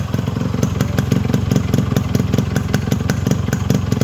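A Yamaha RX 100 two-stroke motorcycle idles close by, its engine beating in a fast, even, loud rhythm throughout, with no voices.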